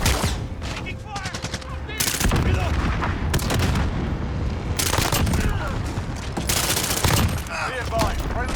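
Gunfire in the video game Modern Warfare 2, with rapid bursts and repeated loud shots, some close and some farther off, over a continuous battle din with brief voice callouts.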